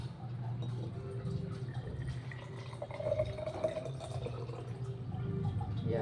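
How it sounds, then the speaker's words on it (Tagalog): Hot water is poured onto turmeric ginger tea powder, producing a steady, soft trickling and splashing that builds slightly over a few seconds, with no talk. "lagyan natin siya ng mainit na tubig"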